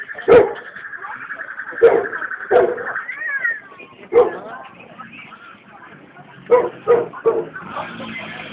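A dog hit by a motorcycle yelps and cries out in sharp, high bursts, about seven times at irregular intervals, with drawn-out whines between them and faint voices in the background.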